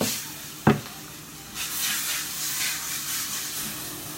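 Olive oil hits a hot pan with one sharp clatter, then a steady soft sizzle and hiss settles in while the food is stirred, close by and without talk.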